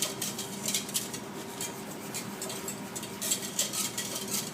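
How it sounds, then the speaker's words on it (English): A white velouté sauce is stirred in a pot as it comes to a simmer, giving soft repeated scraping and light clinks of the utensil against the pan, faint and alone. "And keep stirring."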